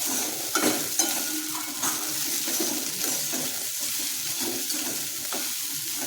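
Fried idli pieces stirred in a sizzling pan, steady frying crackle with repeated scraping and tapping of a spatula close by.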